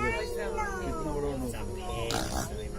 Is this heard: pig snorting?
yes